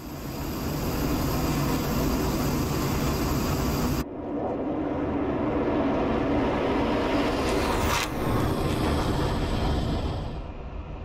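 Mirage 2000C jet engine roars steadily during a climb after takeoff in DCS World, a loud broadband rush that cuts and shifts partway through before continuing, alone without talk.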